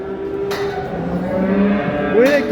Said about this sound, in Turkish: Şu inek kimin acaba ya?